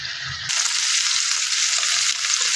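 Chicken pieces stir-frying in a dry pan with no added oil for Filipino chopsuey, a steady close sizzle that jumps up sharply after a half-second lull and holds loud and even throughout.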